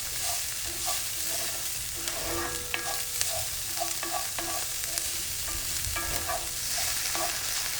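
Jamaican rice and peas frying and browning in a pan while being stirred, with steady close sizzling and repeated scraping clinks of the utensil across the pan in an irregular rhythm, no voices.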